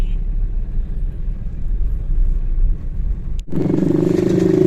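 Road traffic at a town crossroads in Pakistan, a steady low engine rumble that drops briefly and then swells into a louder, closer vehicle passing, with rattling clatter and no talk.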